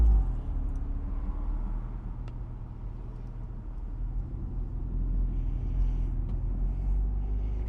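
Interior drone of a 2006 Porsche Boxster convertible with a manual gearbox driving on the road, a steady low engine and road rumble that swells slightly toward the end, with a few faint clicks.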